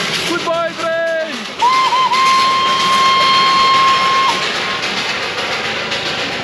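A Darjeeling Himalayan Railway train sounds a long, steady steam whistle that holds for about three seconds as it departs on a windy hillside, after a brief voice and some clatter, with wind noise running beneath throughout.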